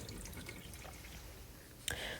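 Tap water runs steadily over goat meat being rinsed clean, a soft continuous splashing and trickling close by, ending in a brief sharper splash near the end.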